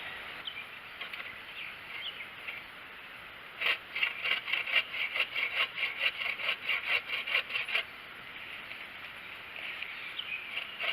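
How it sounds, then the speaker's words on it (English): A cheap Harbor Freight bow saw cuts through firewood outdoors, a run of about a dozen quick rhythmic rasping strokes in the middle, fairly faint against quiet surroundings. "We're going to do some generalized field testing with this, what you'd use it in the field for, just cutting firewood."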